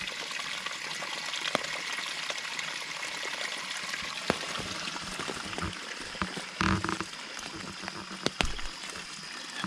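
Water trickles and splashes steadily from a pipe at a leaking pond, a soft continuous flow with occasional louder drips and knocks, outdoors and fairly close.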